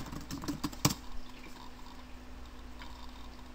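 Computer keyboard typing a chat message, a short burst of quick clicks near the start with one sharper key strike, then quiet room tone.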